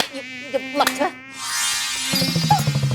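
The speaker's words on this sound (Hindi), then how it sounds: "अरे ये मच्छर" A mosquito whines with a thin, high, sustained buzz through the middle of the scene, while clattering, knocking sounds play around it.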